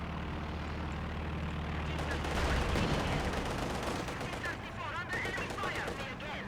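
Rapid machine gun bursts crackle through a busy Company of Heroes 2 battle on a bridge map, with engine drone and scattered gunfire layered beneath, loud and continuous.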